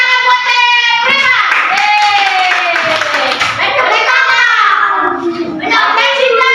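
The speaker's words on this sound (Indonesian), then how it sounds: "tepuk tangan buat Prima" Schoolchildren in a classroom clap their hands for a classmate, the claps blending into a loud, steady wash beneath high-pitched children's voices calling out over them.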